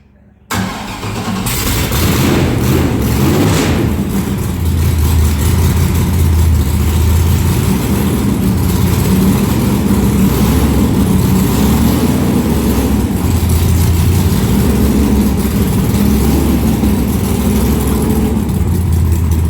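A car with a freshly changed rear carburetor jet, size 72, cranks to life and then settles into a steady, loud idle close by that runs on without a break and with no talking.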